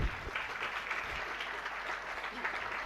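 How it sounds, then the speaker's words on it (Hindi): An audience at a spiritual discourse claps steadily, a dense wash of applause that holds evenly throughout at moderate distance, with no speech over it. "हाँ, हमारी बात पर उन्होंने ताली बजा दी"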